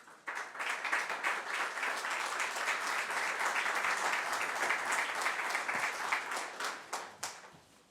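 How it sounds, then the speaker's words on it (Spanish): A crowd applauds steadily for several seconds at a Kimal–Lo Aguirre energy project launch in Valparaíso, dense clapping that swells and then tapers off at the end, no voices. "Un aplauso para él, por favor."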